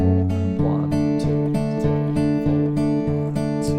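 Strummed acoustic guitar plays the closing four chords of a verse from a song, a steady rhythmic pattern of bright chord strums with regular accents, close and clear with no talking.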